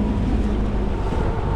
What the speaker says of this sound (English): big waves are coming in.